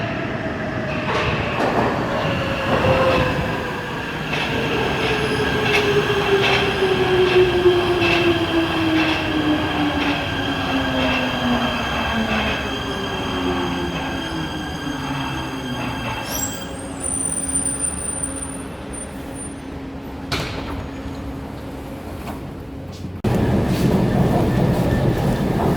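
A Prague metro train runs through the underground, with wheels squealing and a long falling pitch as it slows. A steady loud rumble and rattle carry on throughout, and a brief bright tone sounds near the end.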